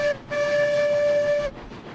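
In the video game RailRoads Online, a steam train gives a brief tone, then a steady whistle blast lasting over a second before cutting off, with rumbling in the background and no talk.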